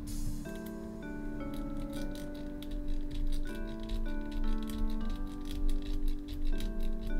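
A bendable fidget antistress pen is flexed and fiddled with, giving rapid rubbing, clicking and scratchy ticks over a steady background of music, close and fairly loud, with no talking.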